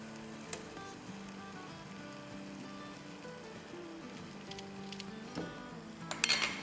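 Onion masala being fried in a pan as yogurt goes in for pulao, giving a steady, moderate sizzle that runs throughout with faint clinks near the end and a tonal background underneath.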